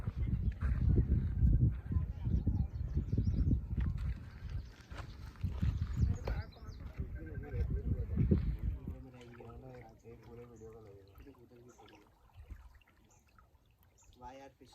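Water currents rush at the dam gates in a conservation area, a steady broad roar for several seconds that fades as voices begin talking over it.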